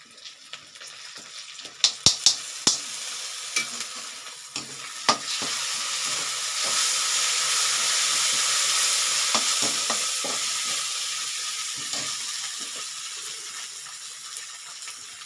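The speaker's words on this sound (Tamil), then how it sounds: "வெங்காயம் வதங்கிடுச்சுங்க ஒரு டீஸ்பூன் இஞ்சி பூண்டு பேஸ்ட் போட்டுக்கலாம்" Chopped onions with ginger garlic paste being stirred and sautéed in a hot pan for a cauliflower potato subji, a steady close sizzle with scraping stirs and knocks at the start, no talking.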